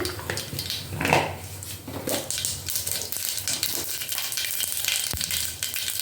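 Steady crackling sizzle of mustard seeds frying in hot oil, continuous and close, with faint clinks of a pan.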